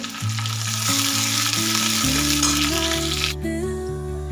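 Ginger garlic paste and cumin seeds sizzling loudly in hot oil with mustard seeds in a pan for a Marathi-style spicy bean pod vegetable dish, a steady close hiss with a low tonal hum underneath, no voices.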